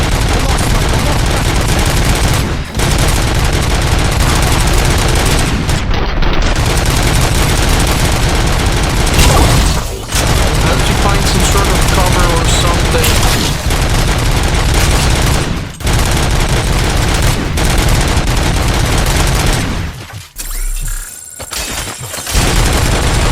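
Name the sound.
machine gun firing in the video game RoboCop: Rogue City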